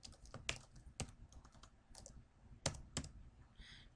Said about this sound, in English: I'm going to type in a formula for the offset